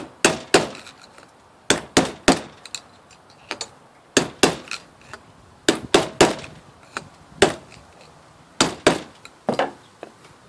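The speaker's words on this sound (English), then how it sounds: "take a hammer and screwdrivers, and just pop out the race from the other side." A hammer drives a screwdriver against a trailer wheel bearing race to knock it out, sharp metallic clanks landing in quick pairs and triplets with short pauses between, loud and close with no talking.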